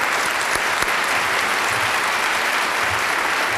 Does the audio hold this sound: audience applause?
yes